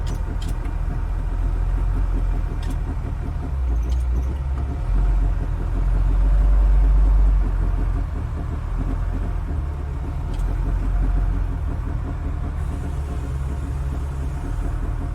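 A smashed salvage-yard Jeep Grand Cherokee with a 5.7 Hemi idles with a low, steady rumble at a fuel pump for about fifteen seconds, with a few faint clicks and small swells in level.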